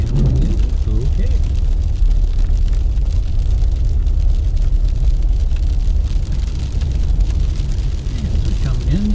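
Truck driving on a wet, sleet-covered winter road through Mount Desert Island, Maine, with a steady low engine and road rumble running throughout, near and loud, under speech.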